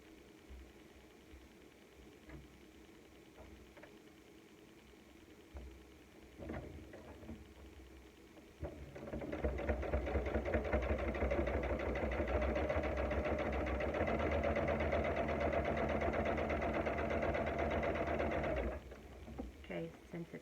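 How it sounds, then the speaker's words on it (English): A sewing machine stitches a quarter-inch seam on a quilt-as-you-go fall table runner. After a quiet stretch it starts up and runs at a steady, fast whir for about ten seconds, then stops abruptly. "I'm just going to sew 1/4 of an inch down."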